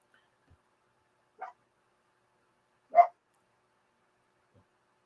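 A dog barks twice in an otherwise quiet space: a faint short bark, then a louder single bark about a second and a half later, both somewhat distant.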